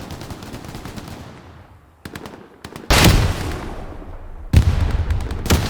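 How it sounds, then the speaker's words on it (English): Gunfire in the video game Hell Let Loose, sharp rifle and machine-gun shots cracking in bursts, some distant and some loud and close, with reverberant tails between volleys. "Those shots are getting close."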